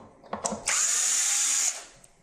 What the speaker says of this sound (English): take the screw gun, put it into reverse. Take out the four screws